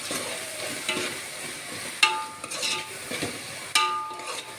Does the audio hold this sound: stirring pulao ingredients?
yes